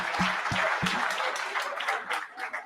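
An audience at a book launch claps warmly and continuously for a few seconds, dense applause with a couple of sharper hits near the start.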